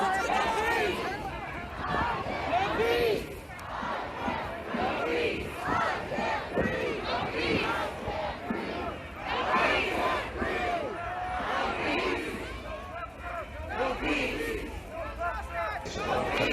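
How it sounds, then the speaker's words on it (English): A dense protest crowd chants and shouts over a police line, many voices overlapping in rhythmic bursts at a steady, loud level with a rough, amplified edge. "They've been chanting."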